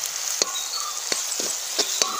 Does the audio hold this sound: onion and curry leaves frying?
yes